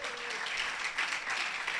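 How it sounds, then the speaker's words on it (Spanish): Church congregation clapping together during a worship service, a dense wash of applause with voices mixed in, steady and fairly loud throughout the brief moment. "Vamos a darle una ofrenda de palmas al Rey por la vida de los hermanos de alabanza y danzas"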